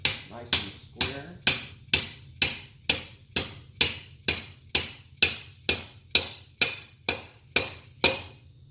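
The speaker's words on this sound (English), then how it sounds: "tap that down, keeping your hammer nice and square" A hammer taps hard plastic on a supporting surface, with about sixteen sharp, evenly spaced, close strikes at a steady rhythm and no other sound.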